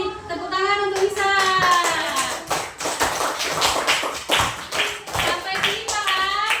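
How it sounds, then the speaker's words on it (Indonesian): A classroom of children applauds a classmate, a dense run of hand claps mixed with young voices calling out, fairly close and lively throughout. "tepuk tangan untuk Nisa"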